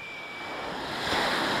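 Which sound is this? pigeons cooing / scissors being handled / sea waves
sea waves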